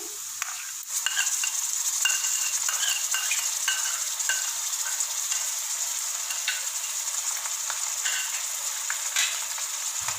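Garlic ginger paste frying with mutton mince for aloo qeema, a steady bright sizzle with a spoon clinking and scraping the pan at intervals.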